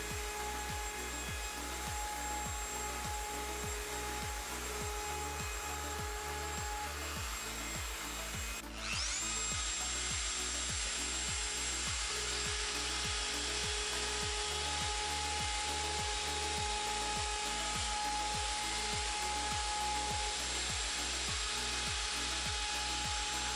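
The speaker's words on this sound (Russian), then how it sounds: "пришло время скруглить углы. Для этого использую фрезу 3 мм." A router fitted with a 3 mm bit rounds the corners of an oak furniture panel, a steady high whine over a repetitive mechanical pulsing, getting louder and brighter partway through as the bit meets the wood.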